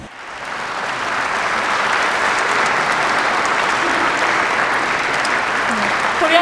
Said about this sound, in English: please stand again to give them a big round of applause.